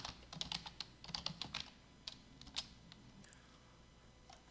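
Rapid typing on a computer keyboard while entering Excel data, light irregular clicks in quick bursts with short pauses, close and faint.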